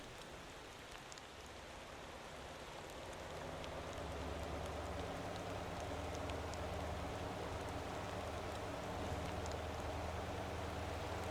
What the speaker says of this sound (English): Just as the rain becomes apparent and starts making life harder.